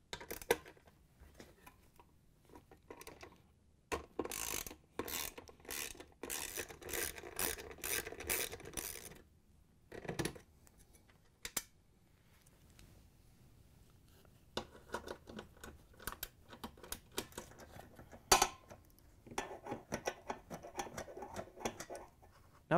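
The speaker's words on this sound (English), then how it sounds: "We're going to have to use a 3/8 inch socket with a ratchet to take them out." A 3/8 inch socket on a ratchet takes bolts out of a GE washer during mode shifter and shaft assembly repair, giving quiet, close metallic clicking and rattling in irregular bursts with clinks and pauses.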